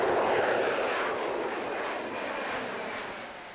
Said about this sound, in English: The roar of the engines means there must be an air show nearby.